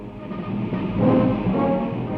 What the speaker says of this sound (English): At fixed intervals, the packed trains rolled eastwards, speed 19 miles an hour.